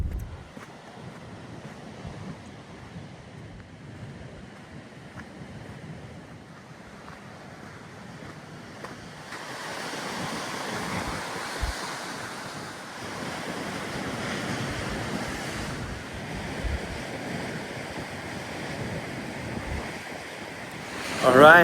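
Blustery wind at a beach on a stormy, rainy day, a steady rushing roar with surf beneath that grows louder and fuller about halfway through, with no talk.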